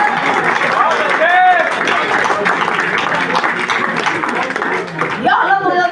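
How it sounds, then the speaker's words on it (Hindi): Audience clapping at a Hindi kavi sammelan poetry gathering in Mumbai, a steady crowd applause with cheering and voices mixed in, loud throughout. "तालियां कमजोर है आप लोगों की"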